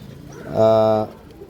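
A single pigeon gives a short, throaty coo close by, rising briefly above quiet background noise.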